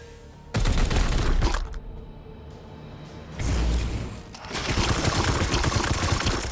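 Bursts of gunfire in Warhammer 40,000: Chaos Gate - Daemonhunters, loud rapid volleys broken by short pauses, dense crackling shots with low booming weight, no talking.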